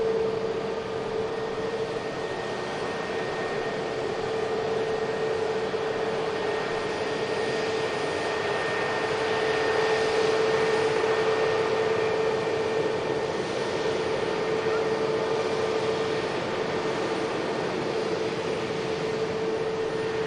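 Jet airliner climbing away from Manchester Airport with flaps retracted, a distant, steady roar and whine that holds evenly throughout without talk.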